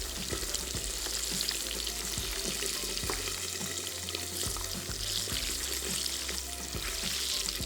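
Food frying steadily in a pan, a dense continuous crackle and hiss close by with scattered sharper pops throughout, no voices.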